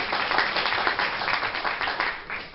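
Applause from an audience at an Israel Advocacy Day talk at a synagogue: dense, continuous clapping from many hands, fairly close and steady throughout the short burst, with no clear voices.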